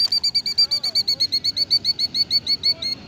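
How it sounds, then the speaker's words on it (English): A protective mother killdeer nesting by a parking lot gives a loud, close, steady series of rapid high-pitched calls, repeated in an even rhythm throughout. "So we have a killdeer right here. It's a little native bird, kind of like a roadrunner"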